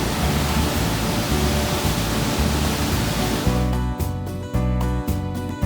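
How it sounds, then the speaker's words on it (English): The Yellowstone River pours toward the upper falls at Yellowstone in a steady, broad roar of rushing water. Partway through, a lower, pulsing engine-like rumble joins with brief dropouts. "You could also see the Yellowstone River just before it pours down the waterfall."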